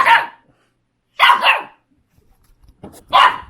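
A puppy barks loudly and close by, three separate bursts of sharp barking with quiet pauses between them.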